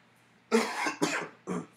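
Three harsh coughs close up, the first two running together and a shorter one after a brief pause.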